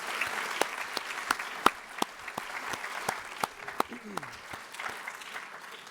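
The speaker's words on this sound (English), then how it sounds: "Please give a round of applause for each of our participants." Audience applause at an Iowa community college legislative forum, steady sharp clapping from a modest crowd throughout, with a brief voice briefly heard over it.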